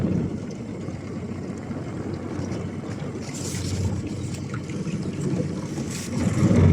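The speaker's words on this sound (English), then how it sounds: "So we're going to stop the engine" Fishing boat engine running on a reservoir by a dam, a steady low drone with wind buffeting the microphone, swelling slightly louder toward the end.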